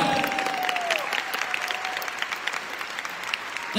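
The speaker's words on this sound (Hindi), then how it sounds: "एक बार जोरदार तालियां बनती सिस्टम के लिए, जोरदार मतलब जोरदार" Audience clapping at a company education-system event, a fairly quiet, even spread of applause from a crowd with a faint whistle-like tone early on and no speech.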